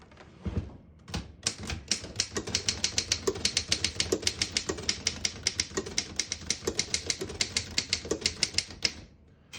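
Rapid, uneven keystrokes clack on a 1925 Underwood No. 5 manual portable typewriter, with a few bell-like carriage sounds and pauses, close and fairly loud throughout.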